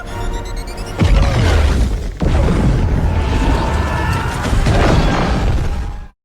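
A cartoon bomb goes off beneath an elevator, a loud booming crash at about one second followed by sustained roaring rumble and debris noise that continues, loud and close, to the end.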